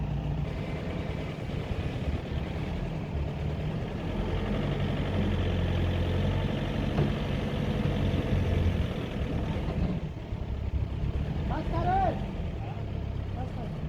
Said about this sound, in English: Now we have started up the vehicle and the vehicle is in place.